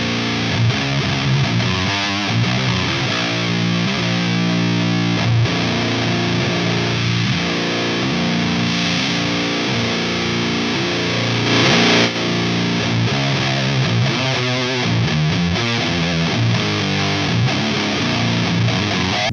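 Heavily distorted electric guitar playing continuously through a loud high-watt amp, thick sustained chords and riffs with no talking.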